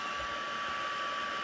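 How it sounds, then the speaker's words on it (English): A heat gun used on a painted harvest Christmas wreath runs with a steady, quiet blowing whir and a thin whine, constant and close for the whole moment, with no talking. "So why don't you go ahead and treat yourself to this heat gun?"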